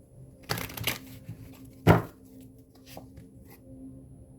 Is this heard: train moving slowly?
no